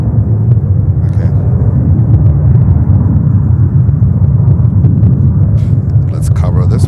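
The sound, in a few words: JetBlue Airbus A220-300 airliner at JFK airport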